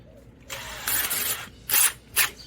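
A power drill with a worn chuck twists doubled 18 gauge wire, whirring up in several short bursts: one longer run, then two quick spins, close and fairly loud.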